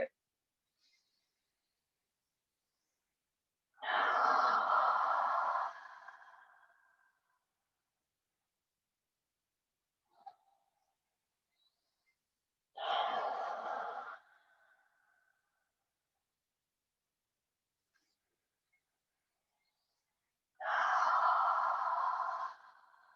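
Three long, slow breaths during a yoga breathing exercise, each a breathy whoosh lasting a couple of seconds, separated by long silences and heard close and clear.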